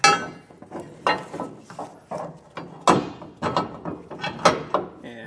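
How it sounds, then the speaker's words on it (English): A Curt A16 fifth wheel hitch plate knocks against a carriage bolt while being slotted into place. Close, loud metallic clanks and clinks repeat in an uneven rhythm, with no talking. "Yeah, so I'm hitting that carriage bolt."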